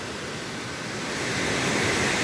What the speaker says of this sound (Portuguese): são quedas, são mini cachoeiras, corredeiras, e assim vai.